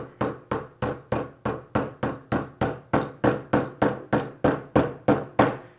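Steady series of about fifteen sharp hammer strikes pressing wheel parts together during assembly, evenly spaced and loud, each with a short ringing decay, with no talk.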